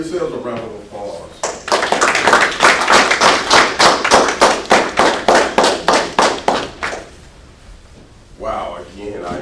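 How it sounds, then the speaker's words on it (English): Graduates at a spring graduation ceremony clap together in a loud, rhythmic burst of evenly spaced, sharp claps that fade out, followed by a brief murmur. "Give yourselves a round of applause"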